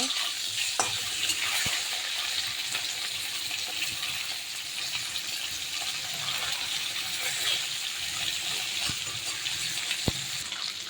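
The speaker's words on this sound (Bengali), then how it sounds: "মাছ দিয়ে দেবো, একটু হালকা করে ভাজবো আমি মাছ" Hilsa fish pieces shallow-frying in a pan, giving a steady, dense sizzle with crackling and occasional stirring clicks throughout, close and fairly loud, with no talking.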